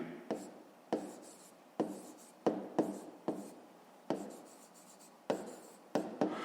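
Pen scratching across paper in quick, uneven strokes with sharp taps as the tip lands, close and fairly quiet, alone without talk, while a sum is written out.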